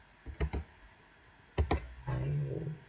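Two quick pairs of keystrokes on a computer keyboard while typing a command-line entry, close and fairly soft, followed by a short low hum.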